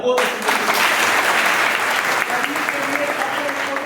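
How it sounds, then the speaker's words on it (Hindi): Loud, sustained clapping from a crowd of schoolgirls at a girls' intermediate college event, filling the room steadily for several seconds with a voice briefly heard under it. "भाई जोरदार तालियां"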